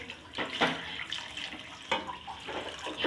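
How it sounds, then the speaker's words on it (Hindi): Water is poured into a pot of chana pulao, cooked chickpeas with spices and rice, making faint splashing bursts and trickles in a few uneven pours. No one speaks. "और अभी मैं पानी डालूंगी।"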